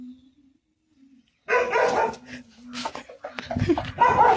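A dog barks a few times nearby amid bursts of activity and scuffling, with a low hum underneath and talk mixed in.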